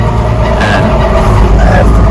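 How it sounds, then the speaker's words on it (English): A loud tractor engine running while pulling a 4x4 plow, a dense, steady close-up rumble filling the whole stretch with no let-up. "This is quite a loud tractor."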